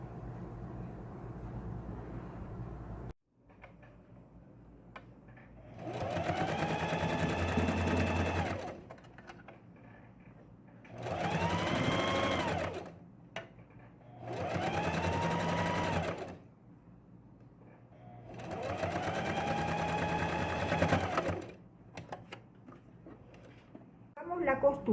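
A sewing machine stitches the hem of a baby romper in four separate steady, whirring runs, each a few seconds long, with quiet pauses and a low hum between them.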